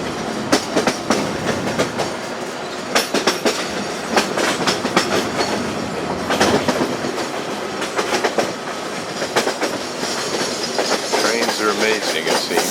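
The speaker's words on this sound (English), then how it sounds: "Trains are amazing, it seems." A train rolls steadily uphill along the rails near Brasov, Romania, with rhythmic clickety-clack of wheels over joints and a continuous rumble, heard close from on board.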